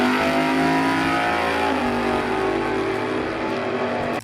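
A 1975 Chevrolet Monza with a 350 V8 and dual exhaust, its engine held at a loud sustained high rev with a dense harmonic roar that dips slightly in pitch partway through, close and continuous.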